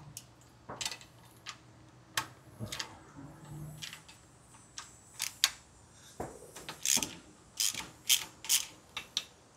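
Socket ratchet working a starter nut on a John Deere 300 garden tractor: a series of quiet, irregular clicking pawl bursts and metallic rubs, growing denser and sharper toward the end, close up with no talking.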